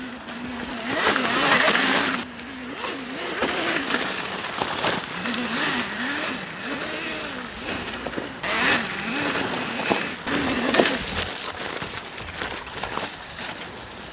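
An electric dirt bike laps a track, its motor whine rising and falling in repeated wavering sweeps, with rushing wind and tyre noise throughout and a few brief sharp clatters near the end.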